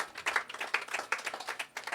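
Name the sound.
round of applause for healthcare workers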